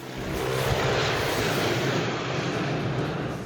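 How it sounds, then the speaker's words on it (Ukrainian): A propeller airplane in an old film scene, with Cary Grant's character being attacked from the air, produces a steady, loud engine drone that holds throughout without voices. "героя Керрі Гранта атакує з повітря літак"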